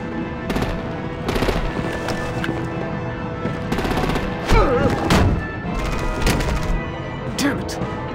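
Rapid machine-gun bursts and scattered gunshots in the Batman The Enemy Within video game, loud and close, in several volleys over a dense background, with voices talking in between.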